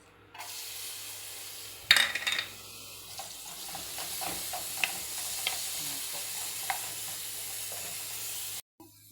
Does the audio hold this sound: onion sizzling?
yes